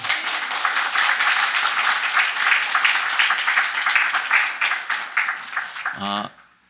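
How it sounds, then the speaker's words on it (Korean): A Korean Baptist church congregation at a Sunday morning service gives a round of applause to welcome newcomers, loud, dense clapping from many hands for about six seconds, ending abruptly as a voice begins. "하나님께 영광의 박수 올려드리겠습니다."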